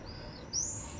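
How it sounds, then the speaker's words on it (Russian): Swallows call outdoors on a warm day with high, thin chirps and a brief whistled note. The calls are faint and distant over a low, steady background hum. "О, птички разлетались, раскричались, ласточки"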